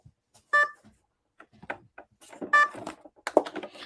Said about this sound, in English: I gotta figure out why it's beeping.